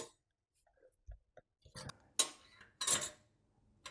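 A metal spoon drops into a garbage disposal and is caught by its magnetic catch, giving a few sharp metallic clinks and clatters over light handling noise in a quiet kitchen sink.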